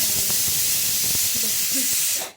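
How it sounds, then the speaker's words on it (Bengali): A pressure cooker cooking dal releases steam in a continuous loud, close hiss that cuts off abruptly at the end. "ডালের সিটি পড়বে"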